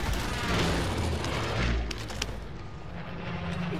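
Enemy gunfire in Call of Duty: Modern Warfare, a steady barrage of low booming shots and rumbling impacts that run loud through the first half, then thin into scattered cracks and a softer rumble.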